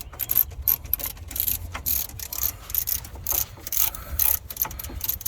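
A ratchet wrench tightens the front shock tower bolt on a second-generation 1994 Dodge Ram truck, giving rapid repeated clicking strokes in uneven bursts, close and steady throughout with no talking.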